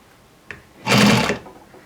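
A sewing machine stitches a seam on a pair of jeans, a steady mechanical whir rising for about half a second and then stopping, preceded by a faint click.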